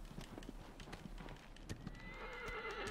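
Horse hooves clip-clop in a steady rapid rhythm in the video game Shadow of the Colossus, with a whinny rising near the end; fairly faint, no speech.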